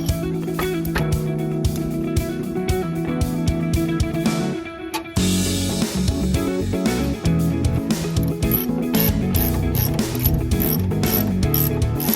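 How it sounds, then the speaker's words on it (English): A wrench ratcheting as it tightens a bolt on the emergency brake of a 2018 Nissan Murano, giving rapid metallic clicking in quick bursts with a short pause partway through, close and clear with no talking. "use the close end of the wrench to tighten the bottom bolt"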